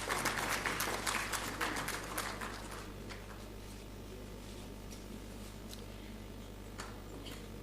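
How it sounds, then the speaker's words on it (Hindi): Applause at a national photography awards ceremony as a recipient is called to the stage: a burst of clapping from the audience that quickly thins to scattered claps and fades within a few seconds. "जोरदार तालियों के साथ मंच पर आमंत्रित हैं।"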